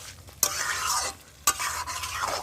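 Chicken pieces for chicken kosha fry in a pan with a loud, close sizzle, broken by two sharp clatters as the pieces are stirred and turned.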